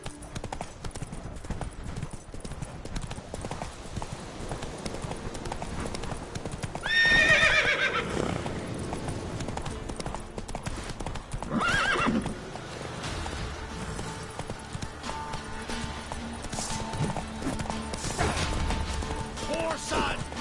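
A horse in The Witcher 3: Wild Hunt clip-clops along at a gallop with a steady hoof rhythm, letting out a loud whinny partway through and another fainter neigh later, mixed with game effects.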